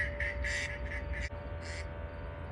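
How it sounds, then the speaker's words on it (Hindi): Duck quacks played from a phone recording outdoors, several short nasal calls in uneven bursts over a faint steady hum. "ये YouTube से डक वॉइसेस निकाल के बुलाने की कोशिश कर रहे हैं।"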